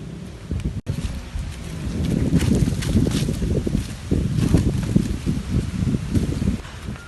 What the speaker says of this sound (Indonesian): Kunaon juga nama ieu angin sepoi-sepoi.